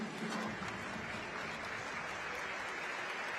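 A stadium crowd at the Udinjump high jump meet in Udine claps steadily for a jumper, with dense sustained applause throughout.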